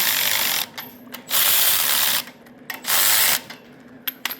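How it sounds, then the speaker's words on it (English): A ratchet strap being cranked tight on a 1971 boat trailer, with several bursts of rapid clicking ratchet pawl separated by short pauses, close and loud with no talking. "I love ratchet straps."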